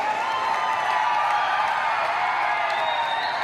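A large crowd at an event greets a singer with continuous applause and cheering, a dense, steady roar of clapping and shouts that stays loud throughout.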